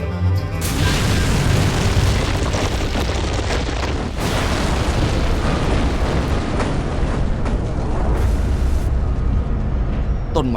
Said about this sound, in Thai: ความดันและอุณหภูมิที่สูงมากนี้ทำให้มันระเบิดอย่างรุนแรง